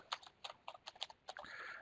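Quick, uneven keystrokes tapped on a German-layout computer keyboard, a series of close clicks with brief pauses, ending in a softer blur of handling noise.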